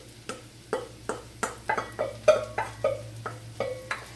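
Wooden spoon stirring chopped cremini mushrooms in a pan, about ten distinct scraping strokes in a steady rhythm, close and clear over a low background hum.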